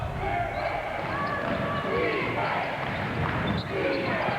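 A crowd in an indoor arena chants and roars during a World Cup qualifier basketball game between New Zealand and Australia, a sustained mass of voices under a commentator talking.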